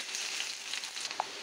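Chopped onion and green chili sizzle in oil in a pan over a medium flame while being stirred: a steady, close hiss lasting a moment, with one small clink near the end.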